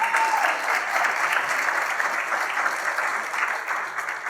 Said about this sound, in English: can we get another hand clap